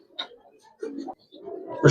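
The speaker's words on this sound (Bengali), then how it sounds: "কবুতর একটা দেখেন" A pigeon being shown for sale, giving a few soft throaty coos close by, separated by short pauses, ending in a brief louder rustle or thump.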